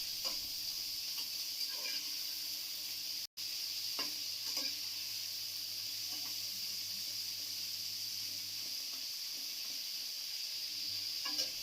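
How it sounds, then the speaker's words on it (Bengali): Sliced onions frying in a pan for mutton curry make a steady, fairly quiet sizzle and hiss with occasional light stirring clicks, broken by one brief dropout, with no one speaking. "এখন পেঁয়াজটা অর্ধেক ভাজা করে নিতে হবে।"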